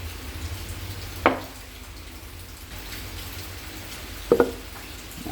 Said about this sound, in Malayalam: നല്ല മഴ പെയ്യുന്നു, നല്ല കാലാവസ്ഥ